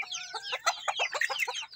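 Young silkie chickens, a few months old and kept in a cage, cluck softly in a quick, busy run of short chirping calls, close by and with no talking.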